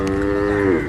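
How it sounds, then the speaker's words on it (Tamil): A Kangayam breed cow at a cattle market gives one loud, close, sustained moo with a slight downward bend at the end. "50 மாடுகளுக்கு பக்கத்தில் கொண்டு வந்திருக்காங்க."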